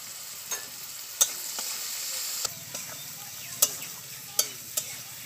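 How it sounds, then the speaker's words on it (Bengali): Turmeric and chili powder fry in oil with potatoes and khesari greens, giving a steady close sizzle punctuated by several sharp clinks and scrapes of stirring, with no talk. "হলুদ ও লঙ্কাটা ভালো করে ভেজে নিয়েছি তেলের মধ্যে"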